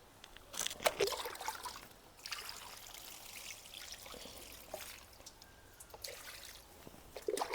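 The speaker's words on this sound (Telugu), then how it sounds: "మొక్కకి లైట్గా వాటర్ పోస్తే" Water trickles from a mug onto potted strawberry plants, a soft close dribble and splash that runs steadily with a few louder spills, with no talking.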